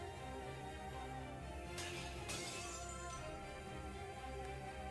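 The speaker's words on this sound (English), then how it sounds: "Her crystalline barrier shatters under the deadly rain of so many weapons." A crystalline glass barrier shatters in Fate/stay night, a sudden bright crash of breaking glass that rings briefly then fades, set against a steady, quiet musical background.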